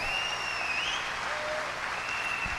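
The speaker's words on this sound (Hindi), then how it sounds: "जोरदार तालियों से स्वागत कीजिए मेरी ब्यूटीफुल वाइफ सीता।" A large crowd at an Amway celebration event bursts into loud, sustained clapping, while thin whistling tones drift above the steady roar.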